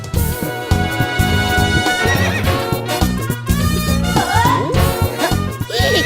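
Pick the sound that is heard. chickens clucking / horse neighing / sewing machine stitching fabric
horse neighing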